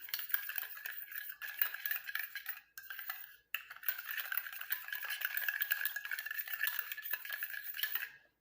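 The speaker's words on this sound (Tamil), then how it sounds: "சர்க்கரையோட இந்த காப்பியும் லெமனும் நல்லா கலந்து வர மாதிரி முதல்ல டிக் பண்ணிக்கோங்க." A spoon stirs sugar, coffee powder and lemon together in a small bowl, a continuous scraping and clinking that is steady and close, with a few brief pauses and no voices.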